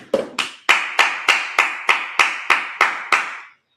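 A church congregation at a Sabbath service claps in unison, about ten sharp, evenly spaced claps in a steady rhythm before stopping abruptly, close and fairly loud.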